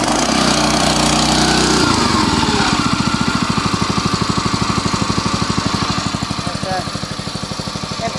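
A Van The 168 water pump driven by a 5.5 HP petrol engine sputters to life and settles into a loud, close, rapid throbbing run that eases slightly toward the end.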